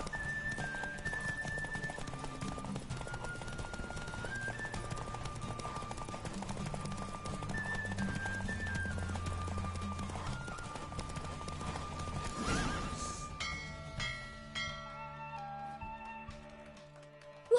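A horse gallops in a race in The Witcher 3, with steady rapid hoofbeats running under a melodic game music score. A brief louder burst comes near the end, and the hoofbeats thin out as the music carries on.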